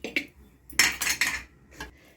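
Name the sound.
brushing oil onto a cooking pot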